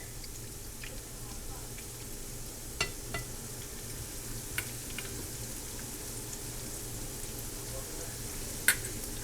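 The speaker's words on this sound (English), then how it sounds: "And fry them up until they're golden brown." Canned-salmon fritters fry in a skillet with a soft, steady sizzle broken by a few sharp pops and crackles, faint and close.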